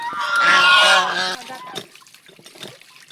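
A goose honks loudly in a few harsh, nasal calls close by, followed by quieter rustling and faint background sounds.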